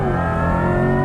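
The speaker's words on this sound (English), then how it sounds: "You can hear that electric motor" Corvette E-Ray hybrid accelerating hard on a race track, a steady loud engine and electric-motor whine with rising tonal harmonics, held close and continuous for about a second.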